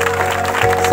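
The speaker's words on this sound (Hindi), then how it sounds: "सब लोग ताली बजाएंगे जोर से जोर से जोर से।" Church congregation at a Sunday healing meeting clapping loudly, a dense continuous wash of many hands with a steady hum beneath, brief and close.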